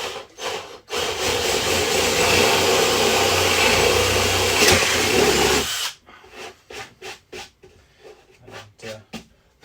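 A loud, grinding drill with an 8mm bit bores steadily through a model railway layout baseboard for several seconds, then stops, followed by a series of short scraping and clearing sounds.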